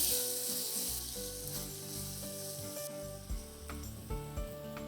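Finely chopped tomato sizzles loudly in a hot pan as it is mixed in with fried ingredients. The hiss is continuous and close, with a few soft stirring knocks, over sustained music-like tones.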